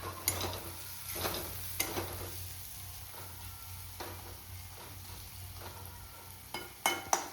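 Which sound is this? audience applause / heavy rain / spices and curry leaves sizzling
spices and curry leaves sizzling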